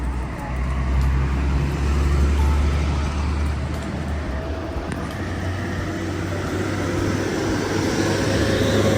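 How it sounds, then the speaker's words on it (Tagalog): A noisy bus engine rumbles steadily and loud close by at a theme park, a continuous low drone with road and traffic noise and no break over several seconds. "Ayaw niya na maingay na bus."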